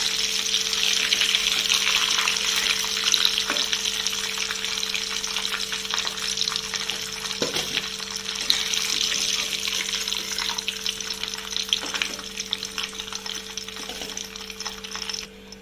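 Chicken pieces frying in hot oil for an Odia-style fried chicken, giving a steady, close crackling sizzle across the whole span with a few faint metallic clinks, and no voices.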